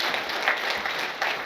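An audience at a graduation ceremony applauding after a speech, dense, continuous clapping from many hands that fills the space evenly.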